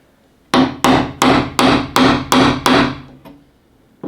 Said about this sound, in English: I'm going to have to use a hammer and a crowbar. So this could get loud.